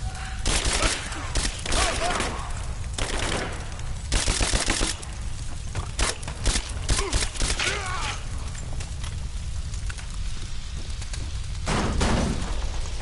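Suppressing gunfire in Rise of the Tomb Raider pops in short, scattered bursts and single shots across the whole stretch, fairly near, with no voices heard.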